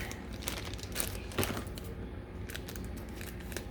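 A bag of greenery for a shiplap cow head hanging sign being snipped and torn open, with crinkly plastic rustling and a few sharp cuts close by, no talking.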